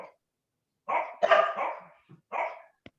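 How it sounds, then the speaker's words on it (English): A dog barks in three short bursts of loud, rough barks with a growly edge, close by and with no talk. A sharp click follows at the end. "There's a dog that wants to answer that when I hear him barking."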